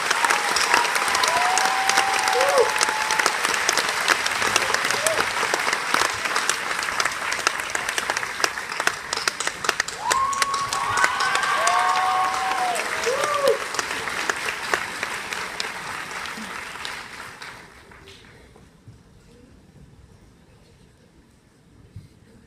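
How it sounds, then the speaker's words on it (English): Audience applause at a high school graduation ceremony, a dense sustained clapping from a large crowd lasting about seventeen seconds before quickly fading out, with a few faint voices mixed in. "Please give these wonderful women a round of applause."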